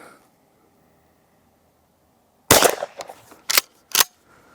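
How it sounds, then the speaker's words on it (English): A Hatsan Escort pump-action shotgun with full choke firing Ely extra long 18-gram No. 5 shot cartridges outdoors: after a quiet stretch come three sharp, loud reports, one after another, with brief gaps. "We're going to shoot at 30 yards with the full choke fitted and see what the patterns come out like."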